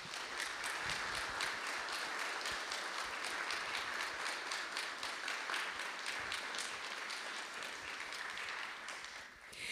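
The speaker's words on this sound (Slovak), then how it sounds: "obrovský potlesk jemu tam hore do neba" Sustained, dense applause from an audience at an outdoor heligónka (button accordion) festival in Chocholná-Velčice, steady and loud throughout with no talking over it.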